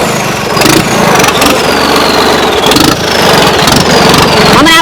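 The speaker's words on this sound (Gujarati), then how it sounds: "ટ્રેક્ટર હાંકે જ છે ને?" A tractor engine chugs loud and close in a coarse, steady run, with the rattling drone swelling in a few bursts along the way.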